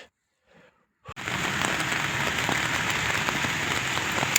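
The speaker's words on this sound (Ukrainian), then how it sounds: "По прогнозу казали, що дощ почнеться в обід. А він почався ночі. Прямо серед ночі. Йде непреривно." Steady rain drums on a tent during a bicycle trip in Bulgaria, starting abruptly after a second of near silence and then continuing as a dense, even hiss with faint scattered drop taps.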